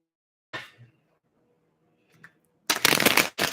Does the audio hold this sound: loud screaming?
no